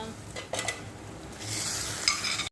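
Golden brown fasting-day bhaji fritters are lifted out of hot oil, a few metal slotted-spoon clinks followed by a rising steady sizzle, close and moderately quiet.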